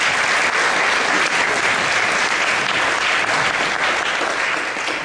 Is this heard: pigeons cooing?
no